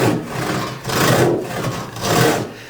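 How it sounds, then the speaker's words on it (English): Three slow, rasping saw strokes pulling through wood, close and rhythmic, each stroke swelling and fading with brief pauses between. "You'll be able to just start sawing"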